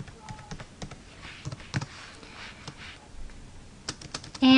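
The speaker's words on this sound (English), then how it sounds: "I'm just going to do a little quick copy and pasting here, save time typing." Quick bursts of typing on a computer keyboard, irregular clicks and taps close up in a quiet room, with short pauses between runs of keystrokes.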